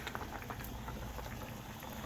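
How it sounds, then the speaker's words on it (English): A pot of water on a stovetop burner bubbles at a full boil, a faint, steady dense patter. "And we are boiling, folks."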